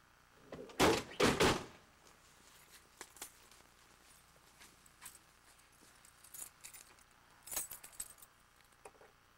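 Keys jangle loudly at a door in two close bursts near the start, followed by fainter scattered clicks and rattles of handling the lock, with no talking.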